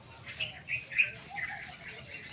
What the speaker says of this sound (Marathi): आज चिमण्या झाडावर फिरायला आलो